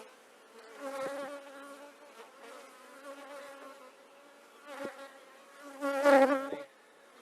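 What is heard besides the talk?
honeybees buzzing during hive inspection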